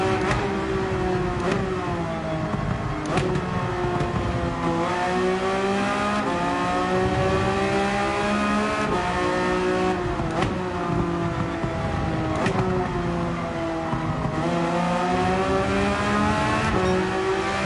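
A race car engine in Gran Turismo 7 holds full throttle continuously, loud and close, its pitch rising and falling through gear changes with brief dips between shifts and no talk over it.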